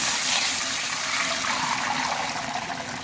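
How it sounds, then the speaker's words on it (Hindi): Chicken stock (yakhni) pours steadily into a pot of garlic fried until browned, a continuous loud splashing gush lasting a few seconds without pause. "अब चिकन यखनी शामिल कर लेंगे।"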